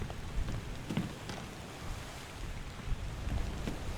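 Steady rain falls in the video game Return of the Obra Dinn, a dense, even patter with wind-like hiss running throughout, alone and without speech.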